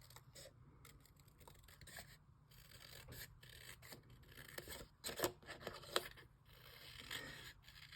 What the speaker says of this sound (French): On va venir découper notre contour du rabat de l'enveloppe.